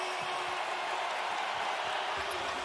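A basketball arena crowd at a Lakers vs Nuggets game roars in a dense, continuous wash of cheering and applause, steady and loud throughout without a break.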